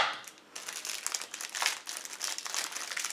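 A crinkly wrapper being pulled off a whacked toffee treat, continuous close crackling and rustling of plastic film rising and falling in short pulls.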